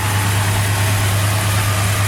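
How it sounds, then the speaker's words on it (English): A 1966 Chevy Chevelle Malibu convertible with a 283 V8 idles steadily and close, a constant low rumble with a strong bass hum and no talk over it. "Engine runs excellent also."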